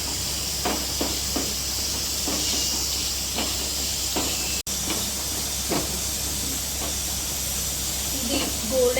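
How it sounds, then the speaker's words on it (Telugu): Poppy seeds and dried coconut frying in a pan, a steady close sizzle and hiss with scattered light pops and stirring scrapes throughout, while faint voice sounds mingle underneath. "గసగసాలు, ఎండు కొబ్బరి వేసుకొని బాగా గోల్డెన్ కలర్ వచ్చినంత వరకు ఫ్రై చేసుకోవాలి."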